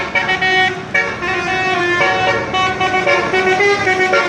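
A long-distance Amsterdam Valhalla coach entering a city bus terminal in Payakumbuh sounds a loud, close musical horn, held steadily with a short break near the start, over the low rumble of the engine.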